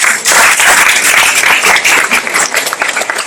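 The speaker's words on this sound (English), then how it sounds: "Give me a round of applause again." A loud round of applause from a crowd at an outdoor Estuary Day welcoming ceremony, close and full at first, then thinning into scattered claps toward the end.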